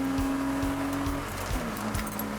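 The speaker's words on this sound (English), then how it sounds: "You can see the acceleration these cars have got." Street race cars accelerating hard, a loud, steady engine roar with rising and shifting pitch, close and continuous throughout.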